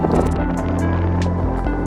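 Strong wind buffets the microphone in a steady roar on a hill summit at Craters of the Moon National Monument, with low rumbling gusts and no clear voices.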